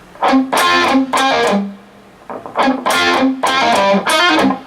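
Distorted electric guitar playing a short palm-muted riff in two chunky bursts with a brief gap between, loud and close.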